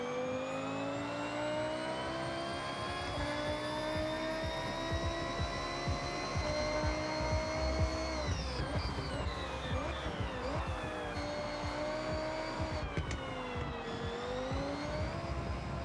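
Race car engine in the video game Forza Horizon 6, a continuous high droning whine with shifting pitch as it eases off and picks back up, loud and steady with no talk over it.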